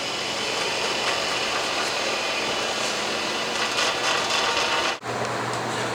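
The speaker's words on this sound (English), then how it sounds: "So I'm going to shut off my bench grinder and this here blade." A workshop bench grinder with a blade mounted runs at a steady loud whir, then is switched off with a brief dip and a lower hum afterward as it winds down.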